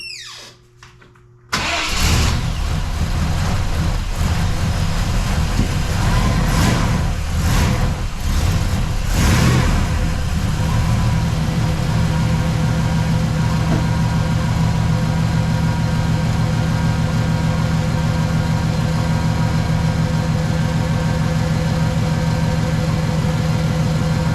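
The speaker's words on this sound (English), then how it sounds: "So I'm gonna start the truck back up." Chevy S10 truck with a swapped 5.7 Vortec V8 cranks briefly, fires up with a loud roar, revs a few times, then settles into a steady, close idle.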